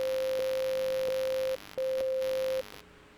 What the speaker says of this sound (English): So that's a popular thing to do as an EDM artist is add a sub bass.